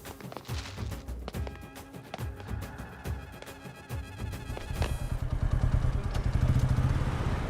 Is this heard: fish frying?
no